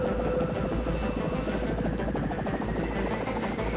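A helicopter drones steadily with a rumbling rotor chop and a whining engine tone, fairly loud and constant throughout, with no voices.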